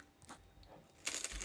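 A single crisp crunch of a bite into a vegetable spring roll, close and brief, following a moment of quiet.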